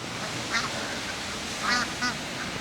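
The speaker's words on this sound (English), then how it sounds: "These are these bar-headed geese" Bar-headed geese at a duck pond in Grange-Over-Sands give a few short nasal honks over steady rushing floodwater, the calls brief and moderately near.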